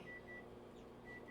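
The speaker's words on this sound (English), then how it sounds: "That timer's going off" A kitchen timer goes off while chicken in a wine and cream sauce cooks. It sounds as thin, faint electronic beeps against a low kitchen hum.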